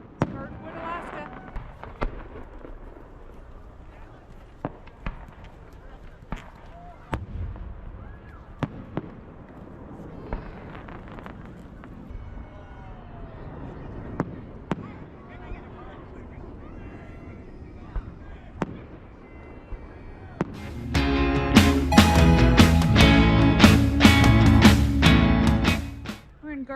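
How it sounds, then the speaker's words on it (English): New Year's Eve fireworks in Girdwood, Alaska pop and crack sporadically at a distance, then build into a loud, dense finale barrage of rapid bangs and crackles near the end. "New Year's Eve fireworks, Girdwood, Alaska."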